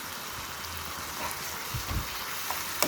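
Sugar being stirred into tomato chutney in a pan, giving a soft, steady sizzle and bubbling with a few low scraping thumps of the spoon, quiet and close.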